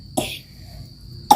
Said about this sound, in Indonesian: Batuk agaknya.